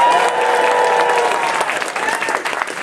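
Convention audience at a closing ceremony bursts into sustained applause and cheering, a dense wash of clapping from a large crowd that stays loud throughout.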